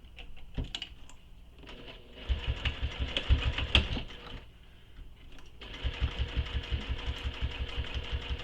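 A sewing machine runs basting stitches on a tote bag in short bursts, its rapid even needle thumping starting and stopping with brief pauses between runs, close and clear.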